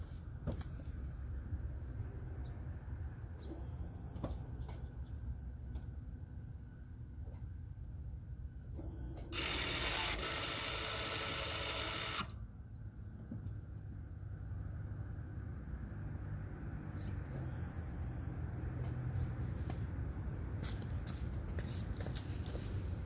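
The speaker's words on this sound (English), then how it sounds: "I'm going to put this camera with the sound right next to the caliper motor so you can hear it when I disengage" A Mazda CX-5's electric parking brake rear caliper motor disengages into maintenance mode, heard up close as a loud, steady motor whir lasting about three seconds over a quiet, low background hum.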